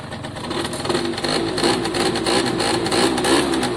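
An Italjet pit bike carrying Dunlop sponsorship idles after its choke has come off, a steady, fairly loud buzzing drone with a fast, even pulse, running alone without a break.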